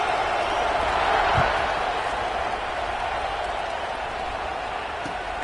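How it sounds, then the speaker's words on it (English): A football stadium crowd buzzes after a score, a steady broad roar of many voices that swells briefly, then settles into a sustained din that fills the space throughout. "this crowd is buzzing after that last score"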